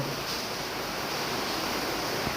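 Cool wind blowing over the Gomti river near Cumilla: a steady, broad rushing hiss that stays level throughout, with no voices and no distinct events.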